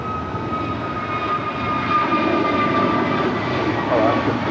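Jet airliner taking off from runway 25 right at Los Angeles International Airport: a loud, steady engine roar that swells slightly, heard alone and fairly near.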